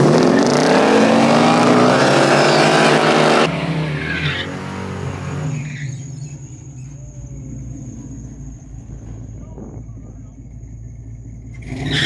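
A 1969 Camaro restomod at a drag strip spins one tire, a loud roaring engine with screeching tire squeal for a few seconds, then fading to a distant rumble as voices talk over it.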